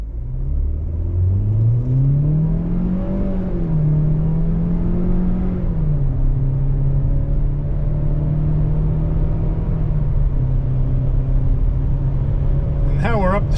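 A 2022 Chevrolet Trax LT AWD pulls away from a standstill, its engine hum rising through the revs, dipping at a shift, then settling into a steady drone with road noise, loud and close from inside, while a person talks over it.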